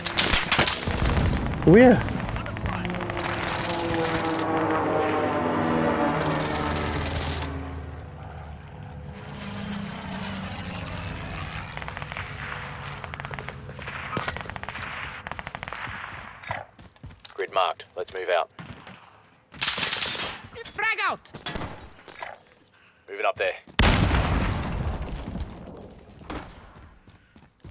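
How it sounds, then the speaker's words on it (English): Gunfire in Call of Duty: Modern Warfare, scattered bursts of automatic shots and single cracks mixed with aircraft engine drone and battle noise, near and far, while a voice speaks briefly. "These bastards are shooting at me."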